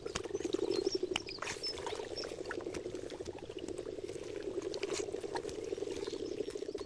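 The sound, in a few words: hundreds of frogs croaking at a mountain lake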